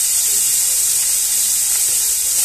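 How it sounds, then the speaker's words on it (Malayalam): Small onions sautéing with salt in a pan for a Kerala pachadi, a continuous soft sizzle and hiss heard close up without speech. "അപ്പം നമുക്ക് ഇതിലേക്ക് കുറച്ച് ഒരു അര ടീസ്പൂൺ ഉപ്പും കൂടി ഇട്ട് കൊടുത്തിട്ട് നമുക്ക് ഒന്ന് വഴറ്റിയെടുക്കാം"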